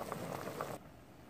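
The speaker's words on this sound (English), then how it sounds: "And in this pot, I have 2 packages of egg noodles boiling." A pot holding two packages of egg noodles boils close by with a dense, steady bubbling and simmering hiss, then cuts off abruptly partway through, leaving near silence.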